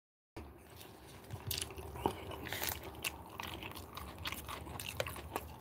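Someone bites into and chews a Subway marinara meatball sandwich, with soft crunching and chewing sounds close to the mic, quiet and intermittent.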